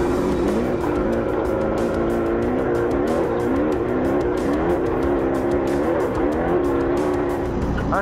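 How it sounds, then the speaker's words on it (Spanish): A big off-road race vehicle roars past at close range during a desert race, its engine loud and revving steadily with shifting pitch throughout. "Ah, no, es un carro grande."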